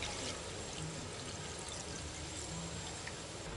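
Water is poured into a pot of beans being cooked, a faint, steady stream of liquid running continuously throughout at low volume.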